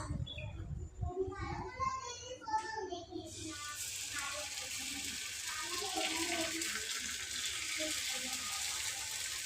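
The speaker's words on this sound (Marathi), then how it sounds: "डोसा करताना जरासा पाणी मिक्स करते" Water pours steadily into thick dosa batter after a few seconds of quiet talk, a continuous hissing splash that carries on to the end.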